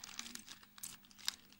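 Lego pieces emptied out of a plastic bag, the thin plastic crinkling and rustling with a few light clicks of small pieces in a short, close burst.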